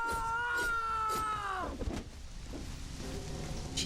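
A pet kitten lets out a long, drawn-out meow close by, then falls quiet as soft rain-like background noise continues and a fainter cry follows.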